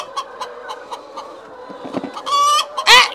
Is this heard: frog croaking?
no